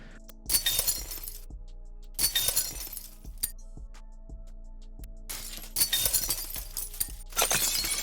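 Layered glass shattering sound effects play as four loud, close bursts of breaking, tinkling glass with brief quieter gaps between them. A low, steady hum runs underneath.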